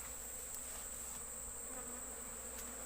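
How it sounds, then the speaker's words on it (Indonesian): Honey bees at a wooden beehive box give off a faint, steady, continuous buzzing drone with no break and no voices. "di sini di depan kita ini adalah kotak bersamaan dengan sarang lebah"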